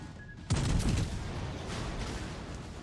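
Torpedoes strike a ship in a naval video game: a sudden sharp blast followed by a sustained rumbling roar of explosions and debris, fairly loud and with no speech.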